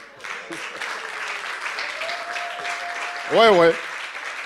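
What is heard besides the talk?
congregation applauding the children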